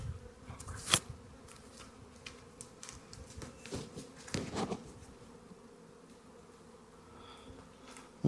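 Honey bees buzz steadily in an outdoor bee yard where frames of larvae are being set up for a cell builder, a continuous droning hum with a few louder passes close to the microphone, no talking.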